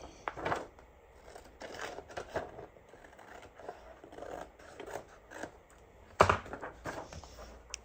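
Scissors snip away the excess paper from a sewing pattern for a sunglass case, giving a run of sharp, close cutting clicks and papery rustles separated by brief pauses.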